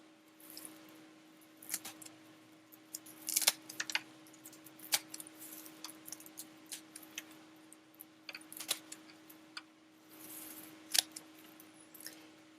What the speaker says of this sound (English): So you're going to need a sharp pair of pruning shears, and you're going to want to cut the plant as close as you can to the bottom